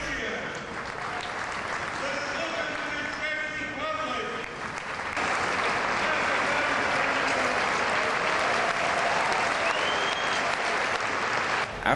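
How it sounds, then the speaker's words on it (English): Thousands of seated emissaries at a large gathering receive sustained applause, a steady dense roar of clapping with voices and a sung or spoken tone mixed in early, swelling louder partway through. "the relevant shlichim stand up and receive a round of applause"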